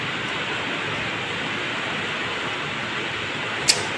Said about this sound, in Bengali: কি জোরে বৃষ্টি হচ্ছে গো।